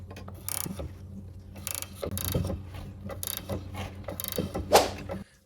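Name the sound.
ratchet tightening bolts on Toyota RAV4 rear suspension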